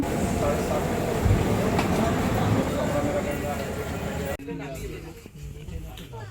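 A passenger train pulls into Guwahati railway station with a continuous loud rumble and clatter amid station crowd noise, easing to a quieter hum after about four seconds.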